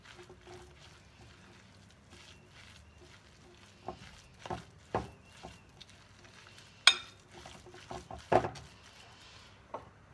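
Ricotta, bread and parmesan are mixed together for gnocchi, giving soft, irregular squishing and scraping sounds with occasional sharper knocks against the bowl in a quiet kitchen.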